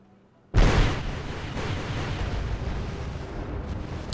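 Rocket strikes exploding in the Wargame: Red Dragon Second Korean War campaign, one sudden loud boom after a brief quiet, then a long rumbling roar that keeps going.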